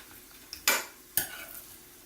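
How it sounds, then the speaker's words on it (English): Two sharp scraping stirs of a utensil through chicken with mixed vegetables and raisins in a pan, close and loud over a faint sizzle. "So I'm going to mix this in very well."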